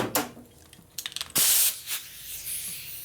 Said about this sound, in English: So I got my rubber tipped air nozzle here.